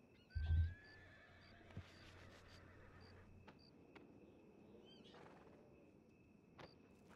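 A horse neighs in Red Dead Redemption II, played as roleplay on a RedM server. One quiet, fairly close whinny is followed by a faint hoof clop and soft ambient background, with no talking.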